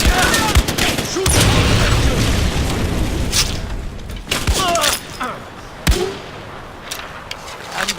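Gunfire and explosions from the video game Far Cry 4, with sharp shots, booming blasts and bursts of rapid fire spread unevenly across the moment, while voices shout excitedly over the combat.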